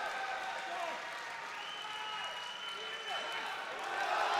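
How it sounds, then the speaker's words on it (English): A crowd at a powerlifting championship cheers and applauds steadily at a distance, a sustained roar with clapping, while a commentator's voice talks over it and the noise swells toward the end. "Listen to the crowd."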